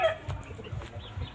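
A young Talisay-bloodline gamecock stag on a backyard farm gives a brief, soft cluck, faint and close, lasting barely over a second.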